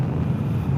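Wind rushing past a rider on an Africa Twin motorcycle at speed, a steady low roar of buffeting air across the microphone, with no voices.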